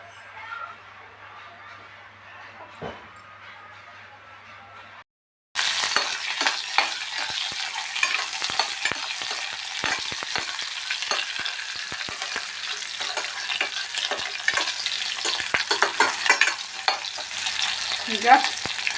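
Mustard seeds sizzle and fry in hot peanut oil, the crackling starting abruptly after a quiet stretch and then running loud and dense with scattered pops, for a sprouted horse gram sambar.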